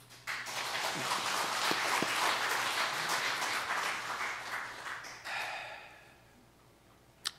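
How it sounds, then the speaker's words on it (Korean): A church congregation at Sunday worship applauds the choir, a full round of clapping that swells, holds, then tapers away, ending with a single sharp knock. "우리 한 박수 한번"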